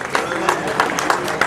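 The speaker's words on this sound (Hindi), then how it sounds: "जोरदार ताली बजाकर" An audience at a state-level journalists' association conference in Chhattisgarh claps in a steady rhythm. Sharp hand claps come at regular intervals about a third of a second apart, close and fairly loud.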